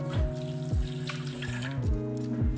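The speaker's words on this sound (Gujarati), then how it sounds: "અને ખાંડ સાથે આપણે આ પાણી મિક્સ કરી દઈશું" Water is poured from a bowl onto sugar in a steel vessel while making a summer drink, giving a quiet gurgling, splashing trickle with repeated falling glugs and no talk.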